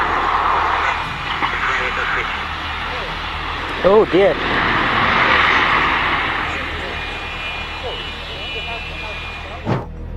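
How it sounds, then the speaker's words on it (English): A steady airplane engine roar fills the scene, with a person briefly speaking partway through and a sharp bump near the end. "Looks like this plane is trying to make an emergency landing during a tornado."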